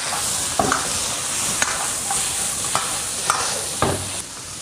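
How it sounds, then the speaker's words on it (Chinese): Chicken stir-fried in hot rapeseed oil in a wok makes a steady, loud sizzle throughout. Sharp scrapes and clanks of the spatula strike the pan every half second or so. "炼熟过后下入鸡肉煸炒一下"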